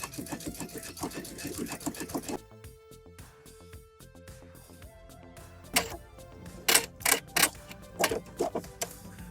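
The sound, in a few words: sewing machine stitching a curved fabric facing edge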